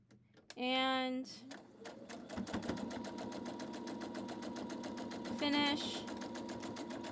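A sewing machine stitches half square triangle quilt pieces for a heart quilt block in a steady, rapid chatter, with a brief whirring winding sound near the start and again later, while someone speaks briefly.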